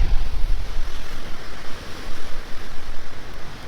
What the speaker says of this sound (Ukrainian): А зараз вітер роздувся ще сильніше, ніж був, як ми тільки сюди приїхали